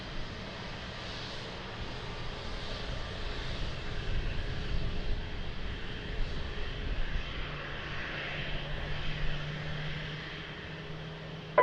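An Etihad Boeing 777 airliner at Lisbon Airport gives off a steady, moderately distant engine roar that swells slightly midway, with a low rumble beneath.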